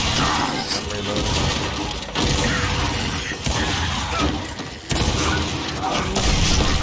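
Weapon reload in Gears 5 multiplayer, close clacking mechanical clicks and a metallic snap over a dense, loud game soundscape with crashes and distant gunfire, brief gaps between bursts.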